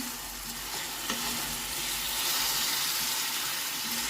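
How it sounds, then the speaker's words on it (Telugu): Tomatoes stirred into frying fenugreek leaf curry, a continuous close hiss of sizzling with a few faint scrapes, steady throughout and no talking. "ఈ స్టేజ్లో టమాటాలు వేసేస్తున్నాను ఒకసారి కలుపుకున్నాం దీన్ని"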